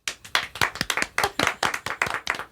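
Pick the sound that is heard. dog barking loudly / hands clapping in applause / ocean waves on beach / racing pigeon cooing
hands clapping in applause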